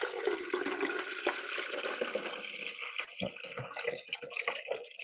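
Continuous rushing, splashing water pours steadily into an ice maker's reservoir, filling up close by with no voices.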